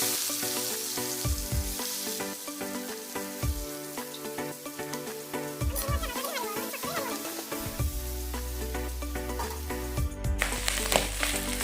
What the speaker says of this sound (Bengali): চিংড়ি মাছটা ছাড়িয়ে দিচ্ছি।